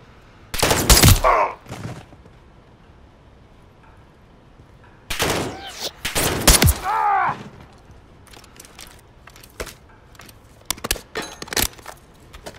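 Bursts of automatic gunfire in the Call of Duty Modern Warfare 3 video game, two loud sustained volleys followed by a scatter of sharper single shots, over quiet ambient background.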